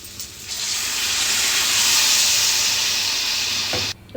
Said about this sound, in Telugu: మామిడికాయలు లైట్గా మగ్గిపోయినాయి ఇప్పుడైతే వాటర్ వేసేసుకుందాం